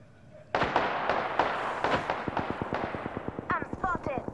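Incoming gunfire in Apex Legends: a burst of rapid automatic shots starts abruptly and rattles on in quick, evenly spaced cracks, fairly loud and close, with some impact sounds near the end.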